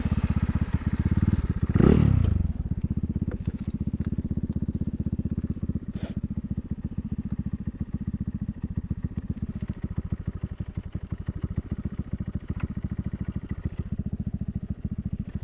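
Yamaha Mio scooter with a leaking head gasket, its engine revving sharply once near the start and then settling into a rough, clattering idle with ticking and uneven pulses, close by.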